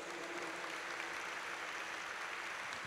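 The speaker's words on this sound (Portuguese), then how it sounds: "Vamos aplaudir a palavra de Deus." Congregation applauding during a Catholic church service, a steady, even wash of clapping filling the room at moderate distance with no voices over it.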